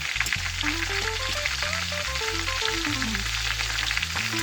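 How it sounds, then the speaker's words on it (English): Irish potato and carrot frying in oil for Jamaican brown stew chicken, with a steady sizzle close by running beneath prominent background music and no speech. "I'm putting in my Irish potato and my carrot. I need them to cook a little bit in the oil before I add everything."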